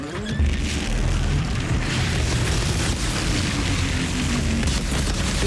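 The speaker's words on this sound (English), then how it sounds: "when it kills the frozen enemy, there's an explosion that kills other enemies" A deep, rumbling blast goes off as a freeze gun kills a frozen enemy in the video game Outriders, followed by sustained heavy booming and crackling debris with no voices.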